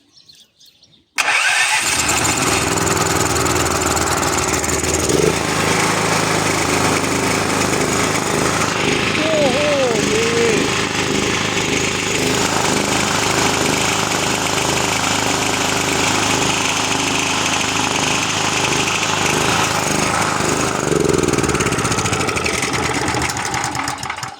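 A motor engine starts up and runs loudly and steadily for the rest of the clip, a continuous close droning rumble.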